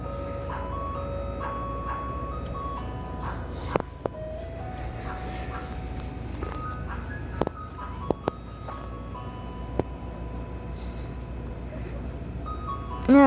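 An ice cream truck plays its tinkling chime melody steadily over a low rumbling background, with a few sharp clicks and knocks scattered through.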